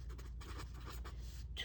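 Handwriting numbers with a pen or marker, with soft, continuous scratchy strokes broken by brief pauses, close and fairly quiet over a steady low hum, with no talking.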